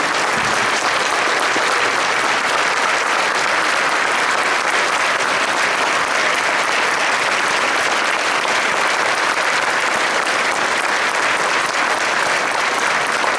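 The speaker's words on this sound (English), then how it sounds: "I need to give this man a standing round of applause" Loud, sustained applause fills a large hall at a furry convention's opening ceremony, a dense, unbroken roar of clapping from a big crowd lasting over ten seconds.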